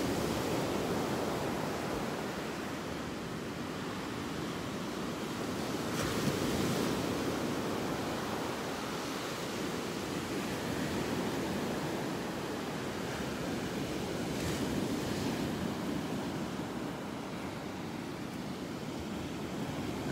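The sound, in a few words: ocean waves on beach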